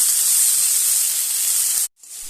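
Chopped carrot cooking in a pan, a loud continuous hiss of steam and sizzle that holds steady up close, then cuts out briefly near the end before resuming.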